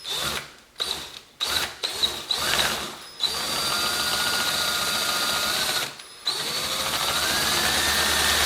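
A drill with a larger-diameter bit countersinks a hole in a thin plastic Hercules guitar stand, whining in short bursts before settling into a steady close run that briefly stops and restarts.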